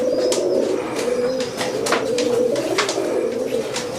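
Pigeons kept by a fancier coo steadily in a loft, soft repeated throaty calls close by, with a few sharp chirps and flutters mixed in and no talking.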